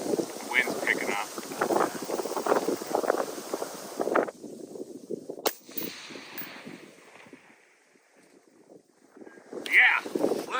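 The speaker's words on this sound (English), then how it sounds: "The wind's picking up." Gusty wind buffets the microphone at an outdoor rifle range, rumbling and rising and falling beneath people talking, with one sharp crack partway through.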